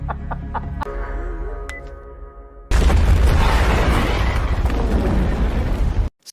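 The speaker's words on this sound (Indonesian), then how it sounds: "ia sudah berada di luar sambil memegang ponsel untuk memicu ledakan besar" A big explosion in a film, triggered remotely by a phone, erupts suddenly as a loud, sustained roaring blast and cuts off sharply. Clucking chickens and a rooster can be heard faintly before it.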